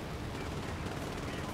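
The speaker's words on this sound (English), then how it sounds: "Someone shooting me from behind" Rapid gunfire in War Thunder, a dense continuous rattle of shots, loud and unbroken, heard from the player's position while coming under attack from behind.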